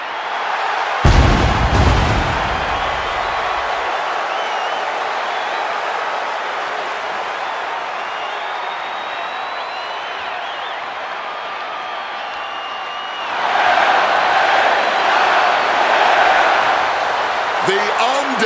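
A wrestling arena crowd at Monday Night Raw cheers for L.A. Knight in a steady, loud roar that opens with a sharp bang and swells again near the end, with a commentator's voice running over it.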